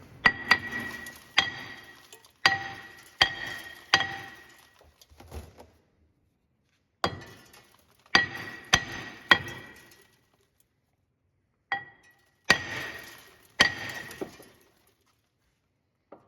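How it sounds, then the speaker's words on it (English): A sledgehammer strikes a brake rotor with a lug nut threaded on during a 2018 Chrysler Pacifica front brake job: sharp ringing metallic clangs, up to four in quick succession in each burst with pauses between, near and loud with no talk. "Throw yourself a lug nut on there and then tap her with the sledgehammer."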